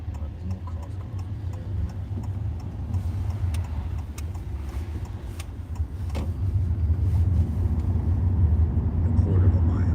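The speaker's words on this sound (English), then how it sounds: "There's more cars coming." Cars on a road on a drive into central London, a steady low engine and road rumble building louder toward the end, with people talking over it inside the vehicle.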